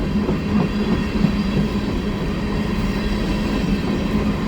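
A CN eastbound mixed freight train rolls past steadily at Pointe-aux-Trembles, Montreal, with a continuous rumbling roar and faint rhythmic clatter of wheels, heard from a moderate distance beside a bike path with no voices.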